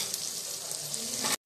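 Ground masala with water roasts in a pan for chicken kachnar, giving a steady, loud, hissing sizzle that holds without pause and then cuts off abruptly.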